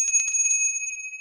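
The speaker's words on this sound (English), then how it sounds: "bell" A bell rings with a single bright, high strike that rings on and fades steadily over about a second, heard alone and up close.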